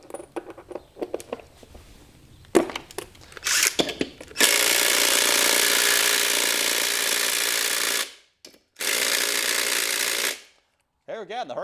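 A Hercules impact driver drives screws in loud, sustained hammering bursts, one long run and a shorter one after a brief pause, preceded by scattered knocks and handling noises.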